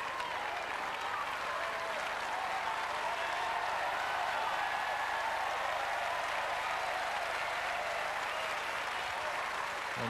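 A tennis crowd applauds Henman in a match against Tursunov, giving sustained, dense, even clapping that fills the whole stretch at moderate distance, with a faint murmur of voices underneath.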